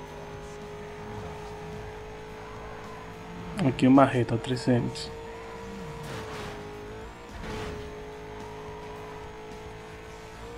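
A racing car engine drones steadily with a rising, accelerating whine in Need For Speed Most Wanted, joined briefly by a louder burst of tire and impact noise, while someone talks over the game.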